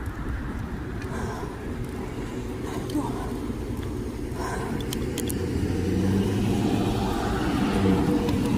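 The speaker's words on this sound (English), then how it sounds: "There's too many cars." Cars passing on a road beside someone on a bike ride, a steady rushing traffic drone that swells louder toward the end, with a person's voice heard over it.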